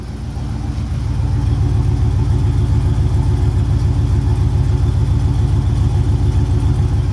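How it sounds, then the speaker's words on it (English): A Chevy van engine with an exhaust leak idles nearby with a steady, rapid puttering pulse, a ticking exhaust rhythm running continuously at close range. "I hear an exhaust leak."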